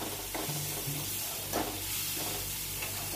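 Masala spices frying in a pan, a soft continuous sizzle with a few scraping stirs and faint clinks, heard close and quiet with no voices.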